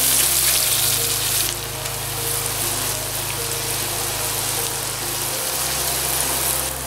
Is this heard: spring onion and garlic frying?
yes